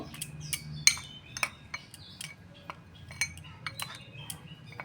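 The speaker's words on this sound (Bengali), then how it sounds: "এখন আমি মশলাটাকে ভালো করে মিক্সড করে নিচ্ছি" A spice masala for stuffing eggplant being mixed in a bowl, with light repeated clinks and scrapes of a spoon against the dish, irregular and close, and faint bird chirps in the background.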